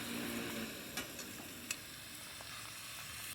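Black Angus bacon cheddar cheese burgers frying in a pan, giving a soft steady sizzle with a few faint clicks and taps. The sizzle is quiet and unbroken, and no one talks.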